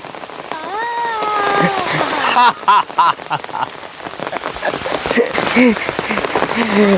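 Rain falling steadily on surfaces, a dense pattering wash that runs throughout, with voices and laughter rising over it close by.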